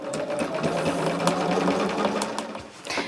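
Sewing machine stitching a seam while piecing a mini charm bag, running steadily for about three seconds with a constant mechanical whir and rapid needle rhythm, close and fairly loud, easing briefly near the end.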